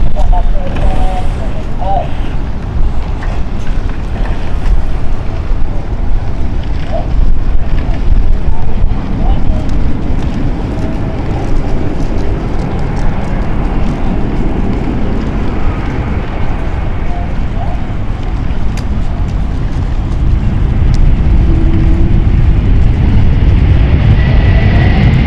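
A KLM airliner arrives at London City Airport, its broad roaring rumble and rushing hiss sustained loudly throughout amid heavy wind buffeting, with a voice speaking intermittently over it.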